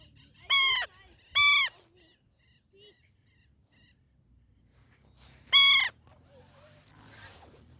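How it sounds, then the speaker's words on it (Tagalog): An injured bird gives three loud, harsh honking calls, two close together and one a few seconds later, with quiet gaps between them and faint background noise. "Mateo, look at this bird."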